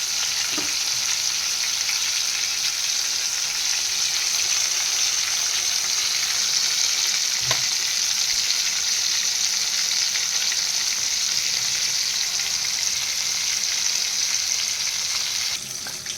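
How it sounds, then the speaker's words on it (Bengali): Semolina-coated aila fish frying crisp in hot oil, a loud steady hiss and crackle that holds evenly without pause from start to finish, with one or two small knocks and no voices. "এদিকে মাছ ভাজা হচ্ছে"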